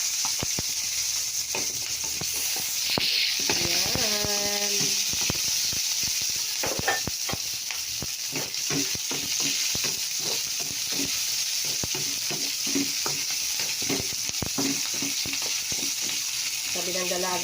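Onions sizzling loudly in hot oil in a pan while cooking beef tripe kare-kare, a dense continuous frying hiss with frequent scraping stir strokes and clinks close by, no talking.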